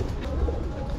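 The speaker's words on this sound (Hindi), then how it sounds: "कबूतर चेक करो कितने सारे हैं" Many pigeons cooing at a gurdwara, with chickens wandering below; soft low coos repeat close by amid a busy murmur of background voices.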